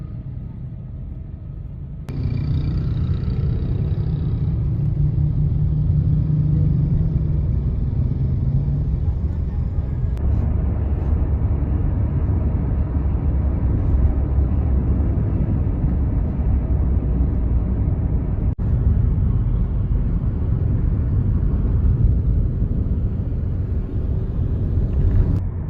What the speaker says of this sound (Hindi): और ये है हमारी ट्रैफिक।